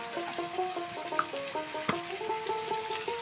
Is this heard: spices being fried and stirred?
yes